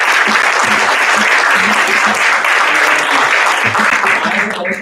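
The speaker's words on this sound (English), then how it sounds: "I would like you all to give them a warm applause" A conference audience at a foreign languages keynote event breaks into warm, sustained applause, a dense steady wash of clapping that stays loud throughout with a few murmured voices underneath.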